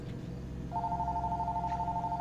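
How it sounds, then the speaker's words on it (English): A telephone rings in the Woodbury Getaway video game, a steady pulsing electronic trill that starts partway in and repeats evenly over a low background hum. "That's the phone."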